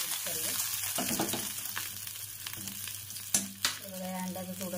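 Dhaba-style egg masala fries in a kadhai with a continuous close sizzle, punctuated by a couple of sharp clanks of the spoon against the pan while it is stirred.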